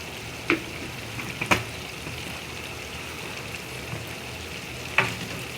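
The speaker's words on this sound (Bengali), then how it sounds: "তারপরে দিয়ে দিচ্ছি আচারের মশলা, তারপরে নেড়ে দিচ্ছি" Olive pickle frying in oil while achar spice mix is stirred in, giving a steady soft sizzle with a few sharp clinks of a spoon against the pan, close and alone.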